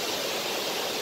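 Steady rushing of a mountain stream in Iao Valley, close and continuous broadband water noise with no voices.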